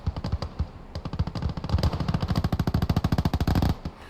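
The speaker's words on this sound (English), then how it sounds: "good little firefight going on in the center here" Gunfire in a firefight in the Gates of Hell Ostfront video game: loud rapid machine-gun bursts with sharp repeated shots, speeding into a dense continuous stream before stopping abruptly.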